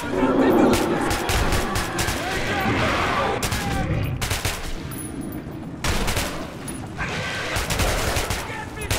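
Rapid, dense gunfire from a fusillade in the Metro video game, with bursts of automatic shots crackling almost nonstop and close, mixed with shouting voices and chaotic combat noise.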